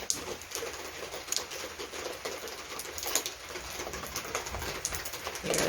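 Steady rain patters and splashes outdoors in a garden in Panama, with scattered louder drips over a constant hiss; no voices.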